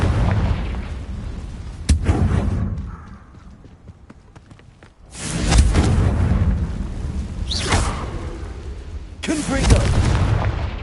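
Confringo fire-blast spells burst loudly in Hogwarts Legacy, three heavy booming explosions with rumbling low tails, separated by quieter stretches.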